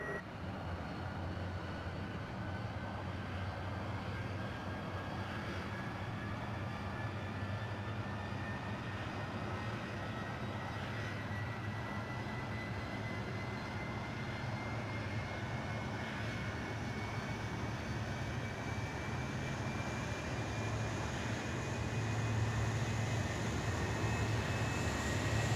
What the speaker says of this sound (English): we're going to come up here and turn on the engine 3 once we got to 20